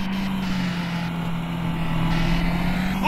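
Killer car engine in the horror video game Decimate Drive, a steady rumbling hum that slowly grows louder as the car approaches.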